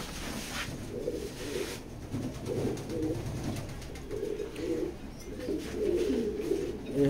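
Racing pigeons at a pigeon loft coo steadily in soft, low, rolling phrases that repeat over a constant background hum, with no talking.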